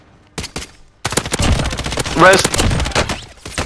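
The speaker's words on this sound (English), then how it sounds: "We're getting shot from hospital." Call of Duty: Modern Warfare gunfire: rapid automatic bursts and single shots crack loudly and close, starting after a short pause and continuing densely, with excited voices shouting over the shooting.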